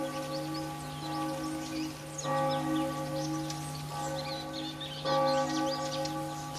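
Church bells ring out loud and clear, their resonant tones sustained and overlapping, with fresh strikes roughly every one and a half seconds and a faint patter of rain behind them.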